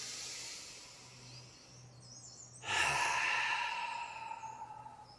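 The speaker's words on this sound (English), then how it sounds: "Take a nice deep breath." A person doing a hamstring stretch takes one deep breath, a long, close exhale that swells midway and slowly fades after a quiet start.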